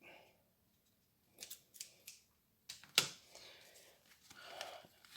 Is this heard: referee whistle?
no